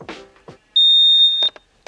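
A single sustained electronic beep from a basketball court timer at the end of a countdown, lasting under a second, loud and steady, after a few brief soft knocks and movement sounds.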